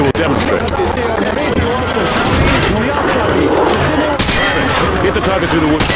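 Call of Duty weapon fire aimed through a wooden panel at a target, heard as dense, continuous rapid shots layered with engine-like rumble and background voices, loud and sustained throughout.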